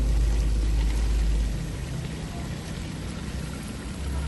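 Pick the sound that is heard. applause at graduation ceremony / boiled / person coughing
boiled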